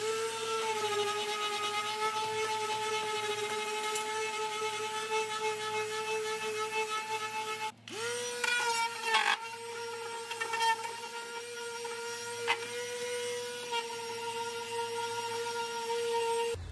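A power sander with 150-grit sandpaper runs steadily over worn veneer furniture, giving a continuous whining motor hum with brief dips and bumps as the pad shifts across the surface.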